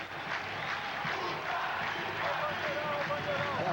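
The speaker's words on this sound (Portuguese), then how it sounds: "É a torcida do Vasco, enfim, cantando em São Januário." Vasco supporters sing in a steady, distant roar at São Januário stadium during a 2003 Carioca match against América, with a commentator's voice running over the crowd.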